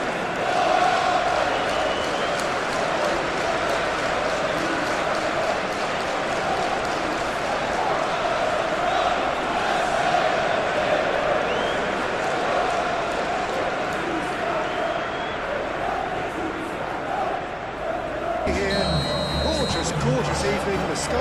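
Stadium crowd noise during a PES 21 video game football match, Newcastle against Barcelona in the Champions League, a dense, steady roar filling the whole stretch at constant loudness under speech.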